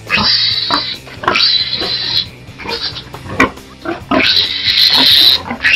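A 14-day-old piglet squeals loudly and shrilly while being caught, in repeated piercing bursts with short breaks, close up and with no talk.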